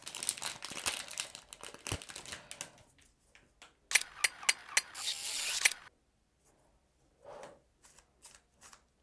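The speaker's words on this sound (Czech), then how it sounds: "Pojďme si tu kostku rozbalit." Plastic packaging of a MoYu Weilong WRM 2021 MagLev speedcube being unwrapped: bursts of crinkling and crackling, then sharp clicks and rustles, fading to a few scattered soft handling noises near the end.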